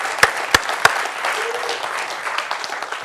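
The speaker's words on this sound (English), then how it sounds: "Can I get a round of applause for my mom?" An audience at a talk on art and technology breaks into applause, opening with a few sharp, loud claps before settling into steady, dense clapping that continues to the end.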